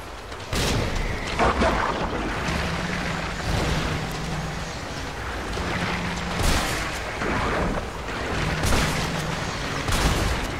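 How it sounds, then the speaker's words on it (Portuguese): Shotgun blasts and a grenade explosion in the video game Resident Evil 3 Remake, a run of heavy booms and gunfire bursts over dense, rumbling game ambience, with no talking. "eu gastei uma granada e dois tiros de shotgun aqui pra matar esse bicho"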